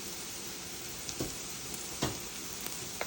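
Onions frying with green chillies and curry leaves for a pumpkin palya, a quiet steady sizzling hiss broken by a few soft stirring taps, heard close with no talking.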